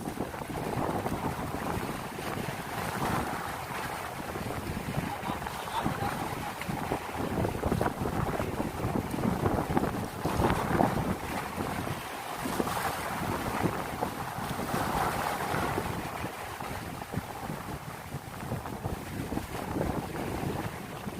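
A fishing boat out at sea in rough, strong waves, with steady roaring wind buffeting the microphone and the wash of water, loud and continuous with no one speaking.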